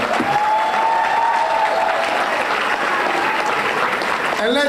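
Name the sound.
audience applause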